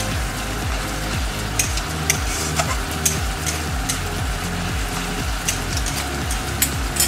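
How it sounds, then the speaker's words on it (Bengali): Katla fish pieces fry hard over a high flame, a dense, steady sizzle with rapid crackling pops running throughout, close and loud with no talking. "আর হাই ফ্লেমে করছি, এটাকে ভালো করে ভাজবো।"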